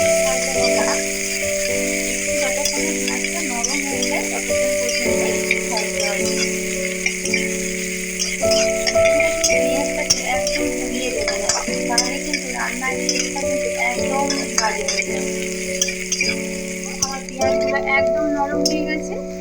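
Chopped green chilli frying in hot oil for a sour-sweet brinjal dish gives a steady, close sizzle, with occasional light stirring clicks throughout.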